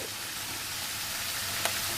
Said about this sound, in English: with the mushrooms just frying away and gradually softening